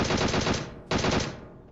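Sustained automatic gunfire in PUBG, two loud continuous bursts of rapid shots separated by a brief pause, the second trailing off, with no voices.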